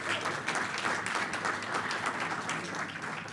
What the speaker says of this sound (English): If you want to clap, you sure can.